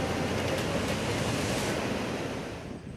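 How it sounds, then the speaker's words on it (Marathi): A continuous roaring rush of heavy water discharged from Khadakwasla Dam into the Mutha River in Pune, over 35,000 cusecs, loud and broadband, fading slightly at the very end, with no voices. "खडकवासला धरणातून मुठा नदीपात्रामध्ये पस्तीस हजार क्युसेकहून अधिक पाण्याचा विसर्ग सुरू आहे"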